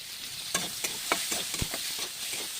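Onion and tomato fry in a pan with a soft, steady sizzle, punctuated by light stirring clicks and scrapes, close and fairly quiet.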